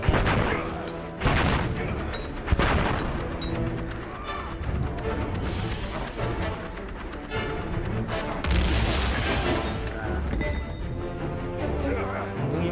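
Bombs explode in the World War I video game Valiant Hearts, with loud, dense booms and crackling blasts piling up one after another, with barely a pause, across the whole stretch.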